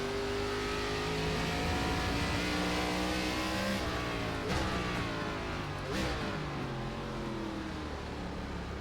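An ARCA stock car engine revs hard and steadily at Sonoma in the iRacing sim, its pitch dropping through downshifts with short blips near the middle before it climbs again, loud and close throughout.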